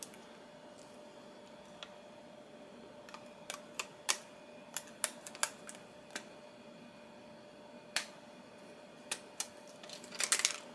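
Sharp, scattered clicks and snips of an X-Acto knife cutting paper, irregular and close, with brief quiet gaps and a quick cluster near the end.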